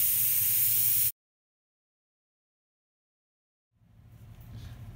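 An airbrush sprays paint onto a realistic glass rendering with a loud, close hiss for about a second, then cuts off into silence before a fainter spray hiss returns.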